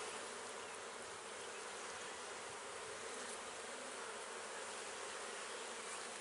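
Dense, steady buzzing of many honeybees, including lots of newly hatched young bees, swarming over the frames of an opened top hive box in spring, a continuous close hum with no talk.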